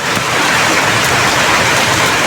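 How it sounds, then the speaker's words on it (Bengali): Steady, loud rain pouring outside on a rainy day, a dense continuous hiss with no clear thunder rumble, and no voices. "বাইরে বৃষ্টি হচ্ছে এবং প্রচণ্ড রকমের মেঘ ডাকাডাকি করতেছে।"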